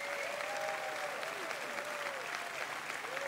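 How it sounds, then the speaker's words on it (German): A television studio audience keeps up steady, sustained applause throughout, dense clapping at even loudness with a faint musical tone running beneath. "Das ist nochmal euer Applaus"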